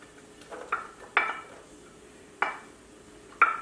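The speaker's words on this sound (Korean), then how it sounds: "야채를 양파, 호박 한꺼번에 볶아주세요." Onion and zucchini stir-frying in a pan for spicy Korean fish cake, with a handful of sharp utensil clinks and scrapes against the pan over a faint sizzle, no talk.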